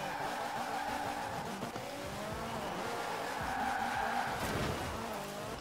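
A car in Forza Horizon 4 drifts with sustained, wavering tire squeal over a revving engine that rises and falls, fairly faint and continuous throughout.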